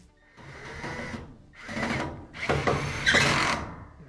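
A wire brush scrubs rust off metal on a Frigidaire laundry center: three close, harsh bursts of rough scraping strokes, separated by short pauses, with no talking.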